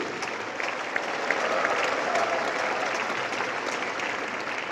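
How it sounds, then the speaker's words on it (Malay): Sustained applause from a large audience at a university convocation ceremony, a dense, steady wash of clapping that continues throughout. "Berikan tepukan gemuruh untuk jawatan kuasa teknikal dan logistik"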